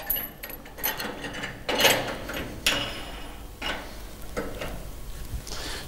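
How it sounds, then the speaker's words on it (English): Several clicking ratchet strokes as a band is tightened around a drum for an electric-lift drum tipper, close and moderately loud, with pauses between pulls. "then we ratchet band tight"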